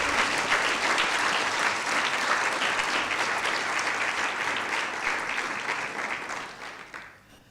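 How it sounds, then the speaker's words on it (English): Sustained audience applause at a public law lecture honouring two Constitutional Court justices, dense and steady throughout before tapering off near the end. "I'd like us to give them a round of applause"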